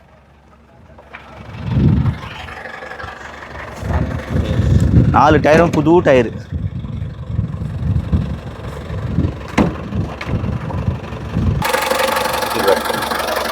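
A used car's engine idles with a steady low rumble beneath someone talking throughout, with some clunks and a brief higher whine midway.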